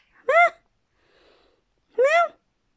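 A cat meows twice up close, two clear rising-and-falling calls about a second and a half apart, with a faint soft sound in the pause between them.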